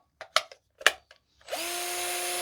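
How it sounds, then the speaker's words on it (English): A Black & Decker cordless drill with a rebuilt battery whirs up after a few clicks and handling knocks, then holds a steady, close, continuous whine to the end. "And then the Black & Decker drill."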